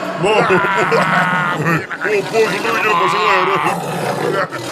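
A toy tiger roars in a children's pretend play scene, a loud, drawn-out growling roar that sounds voice-like and may be a person imitating the animal. It fills the whole stretch with only brief dips.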